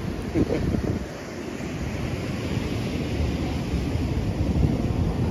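Wind blows across a beach after Tropical Storm Fred with a continuous broad rush and low buffeting against the microphone. It stays fairly even and unbroken throughout, with no voices.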